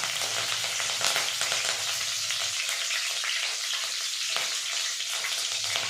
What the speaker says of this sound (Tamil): இப்போ கருவேப்பிலை பச்சை மிளகாயும் போட்டுக்கலாம்.